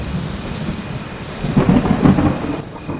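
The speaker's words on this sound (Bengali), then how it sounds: "বাইরে ইতিমধ্যে বৃষ্টি পড়তে শুরু করলো। তার সঙ্গে শুরু হলো মেঘের গর্জন।" A thunderstorm in a Bengali cartoon story: steady rain hisses while a deep roll of thunder swells in the middle and fades, loud and close, with no voices.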